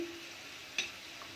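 Mawa gujiya frying in hot oil in a kadhai, a soft, steady sizzle throughout, with one brief clink or splash as a pastry is turned over.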